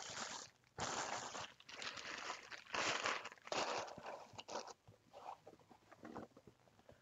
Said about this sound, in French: Ensuite, on a le casque en lui-même que je vais déballer.